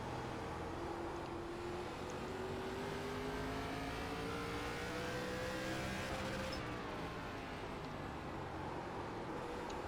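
ARCA Menards Series race cars roar around the Thompson Speedway oval in iRacing, a continuous loud engine drone whose pitch slowly rises and then falls as cars pass, with several engines layered together.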